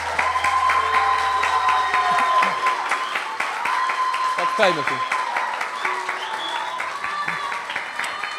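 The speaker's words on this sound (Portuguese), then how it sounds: "Você pode aplaudir eles?" An audience in a church youth service applauds, a dense burst of clapping that continues under someone speaking and a voice over a microphone.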